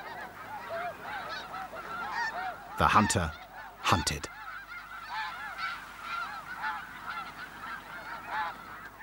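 Arctic geese honk in a loud, crowded chorus while mobbing a wolf, with two especially loud nearby bursts in the middle. A narrator's voice speaks briefly over the calls.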